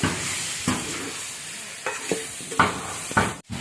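Amudi fish fries in a pan with a steady sizzle, broken by a handful of gentle stirring scrapes and light spatula taps, then a brief drop in sound near the end.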